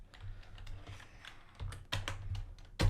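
Keys clatter on a computer keyboard in quick irregular bursts, close and fairly quiet, with a few heavier strokes near the end.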